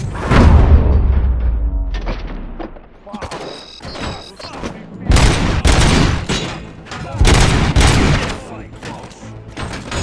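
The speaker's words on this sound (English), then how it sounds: "Am I hearing gunshots?" Bursts of gunfire and booming blasts from the video game Robocop: Rogue City erupt repeatedly, loud and close, with a muffled voice mixed in among the shots.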